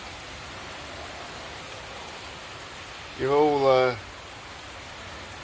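Steady, dense rain hisses throughout a storm in the southern suburbs of Adelaide, with a voice briefly speaking over it.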